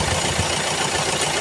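A Hyundai Creta diesel engine runs steadily just after being switched on, a continuous even idle clatter heard close up.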